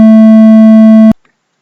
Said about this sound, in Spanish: un sonido de 200 Hz